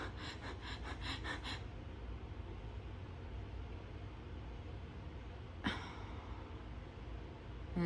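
A voice imitates a newborn baby's periodic breathing, with a few quick rhythmic breaths at the start, a long stretch of near silence over steady background hiss, then one sharp gasping breath.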